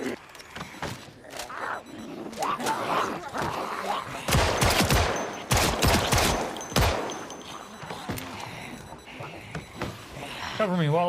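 Bursts of rapid gunfire in Project Zomboid rattle in clusters over a busy, noisy mix, with a voice talking through parts of it.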